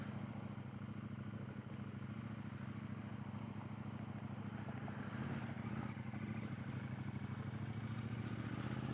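A 2022 KTM 890 Duke motorcycle runs with a steady low engine drone and rumble, muffled and fairly quiet, with a slight rise in intensity partway through and no talking.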